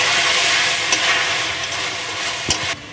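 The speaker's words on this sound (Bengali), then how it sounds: "ভালো করে কষিয়ে নেব।" Ginger, garlic, green chilli and tomato paste sautéing in a hot pan, a steady bright sizzle with occasional scraping stirs, close and continuous before cutting off near the end.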